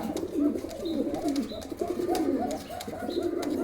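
Soft, repeated cooing of several pigeons at a pigeon seller's, low rounded calls overlapping in a steady murmur close by, with faint rustling and a few higher chirps.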